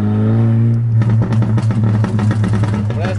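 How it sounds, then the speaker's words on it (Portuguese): A two-stroke motorcycle engine, tuned to pop, revs hard and close, its loud buzzing drone broken into rapid crackling exhaust pops after a brief steady hold. "essa é uma moto pipoqueira"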